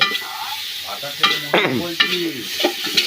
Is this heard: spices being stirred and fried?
yes